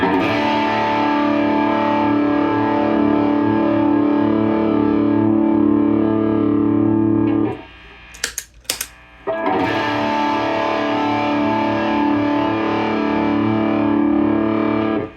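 Electric guitar driven through a Klon-style overdrive pedal, playing sustained distorted chords with a smooth decay, loud and close; the ringing cuts off briefly midway with a few short plucked notes before the full overdriven sound resumes.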